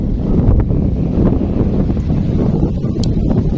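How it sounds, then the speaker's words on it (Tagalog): Strong wind roars and buffets the microphone steadily throughout, a dense, low rumble with no pauses, outdoors on an airgun fishing trip. "Sobrang lakas ng hangin."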